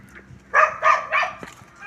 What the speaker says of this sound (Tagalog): Gusto pong sumama ng aso